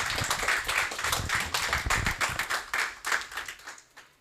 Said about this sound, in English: Everybody, a round of applause for Melina.